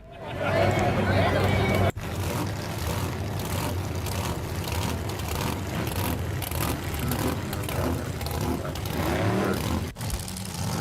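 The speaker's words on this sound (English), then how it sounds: "you guys want to watch some drag racing? Yeah, let's watch some drag racing." Drag racing jet cars and trucks playing back as a loud, steady engine roar that fills the whole stretch, broken by two brief cuts, with people talking over it.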